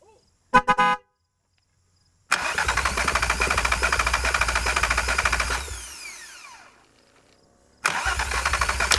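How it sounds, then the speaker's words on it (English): Old car engine cranking over on the starter without firing, a steady rhythmic churning for several seconds that slows and fades, then resumes; a brief clank precedes it. "let's see if it turns over."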